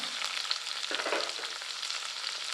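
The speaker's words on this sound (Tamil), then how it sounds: "வெங்காயம் நல்லா வதங்கட்டும்" Onions sizzle and crackle steadily in hot oil for chicken fry, with a brief stirring scrape partway through.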